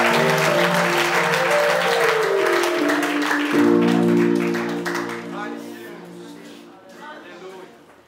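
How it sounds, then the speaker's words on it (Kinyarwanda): A church congregation applauds steadily for several seconds and the clapping gradually fades, with a voice carrying over it. "Komera Imana amashyi"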